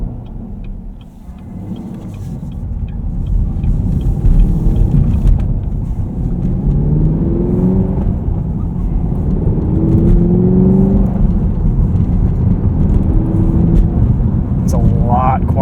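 A Camaro SS 1LE in tour mode drones steadily from inside the cabin, its muted engine and exhaust rising and falling in pitch through gentle acceleration, with a voice talking over it.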